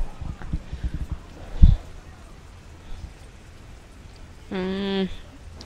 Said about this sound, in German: Zum Glück regnet es.